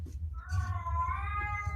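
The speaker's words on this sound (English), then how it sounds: "My poor cat." A domestic cat gives one drawn-out, wavering meow that rises and then slides down, close and fairly loud over a low background rumble, with no talking.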